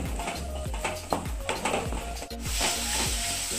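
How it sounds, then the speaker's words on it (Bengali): Potato and carrot pieces fry and sizzle in a pan as a utensil scrapes and breaks them up in repeated strokes, with faint background sounds but no talk. "আলুগুলো এবার একটু ভেঙে ভেঙে দেবো, গাজরটা একটু ভেঙে ভেঙে দেবো, এবার একটু ভাজা ভাজা হবে"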